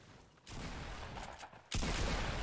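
Gunfire in Fortnite: a burst of rapid shots sets in abruptly, dips briefly, then a louder second volley erupts and continues, rather faint overall with no speech.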